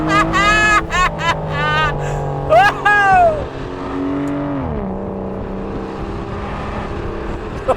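An Aston Martin DBS in track mode revs hard, its engine note rising through sharp upshifts with crackling bursts, then settling into a steady, loud drone heard from inside the cabin.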